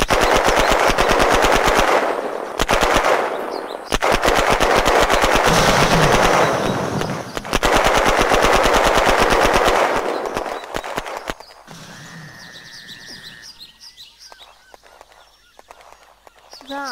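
Loud, rapid machine-gun bursts from the shooter video game Lone Wolf Horizon rattle nearly continuously for about ten seconds, then give way to quieter scattered sounds of play.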